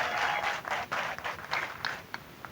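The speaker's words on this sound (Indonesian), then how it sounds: "Tepuk tangan sek kok." An audience at an Islamic religious gathering claps together, a dense wash of applause rising and falling over a couple of seconds, heard from some distance.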